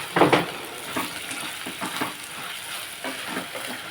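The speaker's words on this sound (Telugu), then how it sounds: "అదిగోండి వేగుతుంది ఇలా మధ్య మధ్యలో కలుపుకొని కొంచెం బంగాళదుంపలు వేగిపోవాలి కదండి" Potatoes fry in a pan alongside eggs, with a close sizzle broken by a few scraping stirs at irregular intervals.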